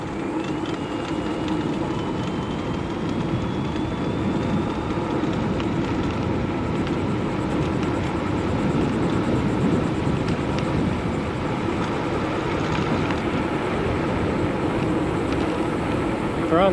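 An electric bike with a Tongsheng mid-drive motor rides on throttle, accelerating to around 25 mph, heard as a steady whine over heavy wind rush and road rumble that holds constant throughout.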